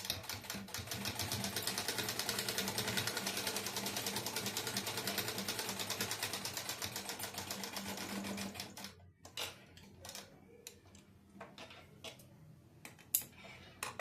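A sewing machine runs a straight finishing stitch on a katori blouse, giving a steady, fast, rattling whir that is close and loud for about nine seconds. It then stops, leaving a few faint clicks and handling taps.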